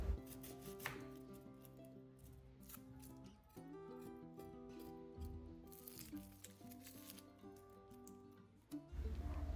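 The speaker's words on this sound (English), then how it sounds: "here I'm chopping onions" A knife chopping an onion in a home kitchen, heard as quick, steady, faint cuts against a board under continuous background music, with no talking.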